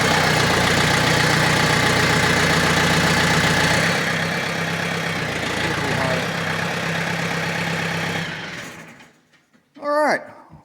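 A snow-clearing machine's engine idles loud and close in a steady low rumble, then the noise drops away near the end, leaving a brief high squeal.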